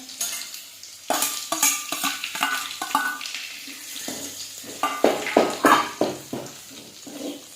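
Garlic and curry leaves fry in oil for a spiced chivda, giving an uneven sizzle broken by repeated scraping stirs and clinks of a spoon against the pan, near and moderately loud, with no talk.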